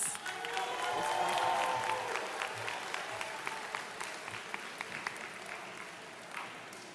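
Crowd applause for graduates at a 2022 Brown Deer High School graduation ceremony: steady clapping from a large audience that swells early, then holds and slowly thins over several seconds, with scattered cheers mixed in.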